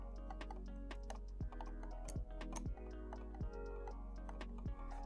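Left and right buttons of an AOC AGM700 gaming mouse wiggle close to the microphone, giving a series of light, irregular plastic ticks and rattles over a steady low hum, with no clicks and no talking.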